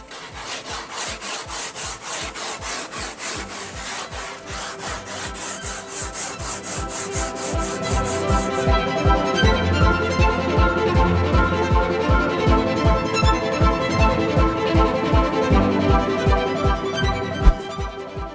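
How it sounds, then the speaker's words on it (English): Hand rasp filing a wood block to carve initials and letters, steady back-and-forth strokes in a regular rhythm, close and fairly loud, growing rougher and fuller partway through, no talking. "So we're going to use the rasp."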